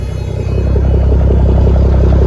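A Smokey and the Bandit tribute truck's engine idles up after weeks parked outside in -40 cold, a loud steady low rumble that swells slightly after the first half second and holds even, with no voices.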